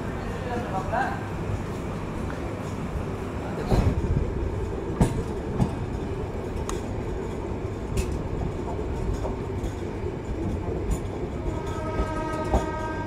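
The Chitra Express night train departs platform 4 of Ishwardi junction bound for Khulna, its rolling wheels rumbling steadily and clicking over joints, with a long horn sounding near the end.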